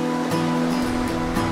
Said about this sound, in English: You can see waves breaking over a shallow reef in front of me